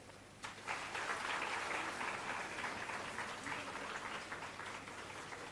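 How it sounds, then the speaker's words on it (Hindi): An audience at a government youth unemployment allowance event welcomes guests on stage with sustained, distant-sounding applause, a steady wash of clapping in a reverberant hall. "उनके स्वागत में मेघ ताली से अभिनंदन।"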